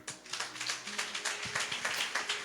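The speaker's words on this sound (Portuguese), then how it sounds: "Receba a missionária Jane com a salva de palmas." A church congregation at a large celebration service clapping together, a dense stretch of applause with rapid overlapping claps throughout.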